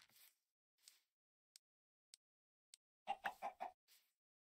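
Minecraft chickens, spawned from a chicken egg, cluck in a quick burst of several short clucks, preceded by sparse faint clicks and soft noises, quiet and alone without talk.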